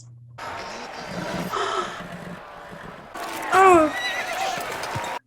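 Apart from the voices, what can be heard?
horse neighing in TV show scene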